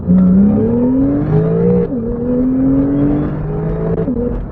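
A 2017 Porsche 911 Carrera with roughly 370 horsepower accelerates hard. The engine note climbs through the gears in loud rising sweeps, with brief dips at each shift. It is heard close up, from inside the car, with no talk over it.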